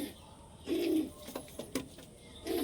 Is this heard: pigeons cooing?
yes